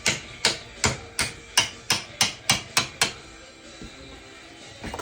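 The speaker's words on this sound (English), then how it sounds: "you got to punch out your dowel pins" A hammer striking a steel punch to drive dowel pins out of a Ford ZF5 manual transmission case, about ten sharp metallic blows in an even rhythm, close and loud, then quiet.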